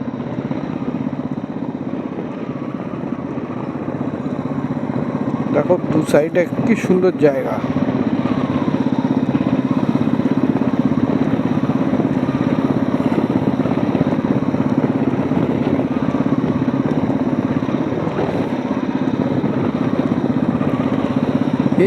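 A motorcycle rides steadily along a narrow village road, its engine a continuous mid-level drone throughout, with a person talking over it and a brief burst of rattling noise early on.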